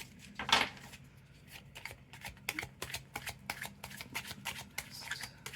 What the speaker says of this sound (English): Let's pull more cards